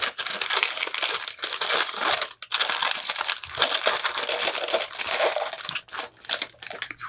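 Tape being pulled and torn off a roll while wrapping a mug for sublimation printing, a close, continuous crinkling rasp lasting several seconds with two brief pauses and no talk.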